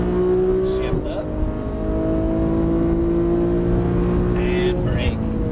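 A Porsche 991 GT3 engine drones steadily at high revs on a race track, with its pitch climbing and shifting as it accelerates hard at full throttle. A voice talks over the engine noise.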